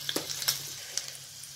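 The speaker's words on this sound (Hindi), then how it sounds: "अब इसमें डालेंगे एक चुटकी हींग।" Cumin, green chili and asafoetida sizzle in hot oil for a tadka, a soft steady frying hiss with faint crackles and pops, quiet and close.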